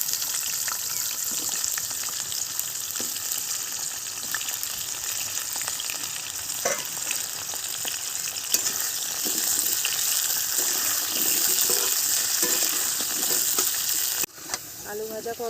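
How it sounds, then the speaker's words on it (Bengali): Potato pieces fry in hot oil for a village-style Bengali home meal, giving a steady, close, hissing sizzle with faint bubbling that runs throughout, broken by a brief clatter near the end. "আলুগুলো একটু হালকা করে ভেজে নেবো এই তেলে"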